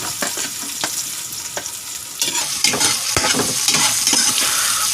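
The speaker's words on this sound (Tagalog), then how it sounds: "Ihahalo ko na yung luya." Ginger is stirred into a hot pan of sizzling sauté, with a steady frying hiss and scraping spatula strokes that grow busier partway through, heard up close with no talk.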